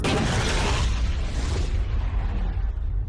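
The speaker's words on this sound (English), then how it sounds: "Carl tosses The Rock through the goo portal before tossing in a complimentary grenade" A grenade bursting in a sci-fi action film scene, a loud close boom that swells and then rumbles away into a long fading roar.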